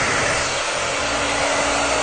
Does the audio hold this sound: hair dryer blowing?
yes